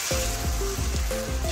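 Water sprinkled onto a hot dosa tava sizzles and hisses sharply in a few quick bursts, close and fairly loud, alone without talk.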